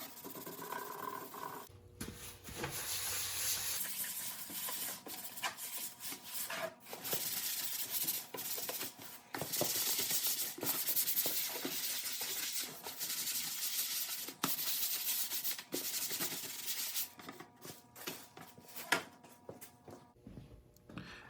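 Thick wood-stain paste scooped from the bottom of a can is rubbed onto a wooden tree box with a rag, a soft continuous scrubbing and wiping with short pauses and occasional knocks, close and quiet.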